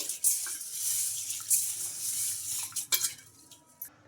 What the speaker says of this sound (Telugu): ఈ పెసల్ని ఒక టూ టైమ్స్ అయితే శుభ్రంగా వాష్ చేసుకోవాలి